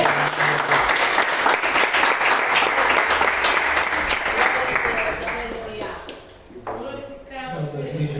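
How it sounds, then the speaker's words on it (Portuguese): Church congregation applauding with a dense, steady clatter of many hands, loud and close, tapering off toward the end as music and voices rise. "recebemos o Seu ungido com as salvas de palmas"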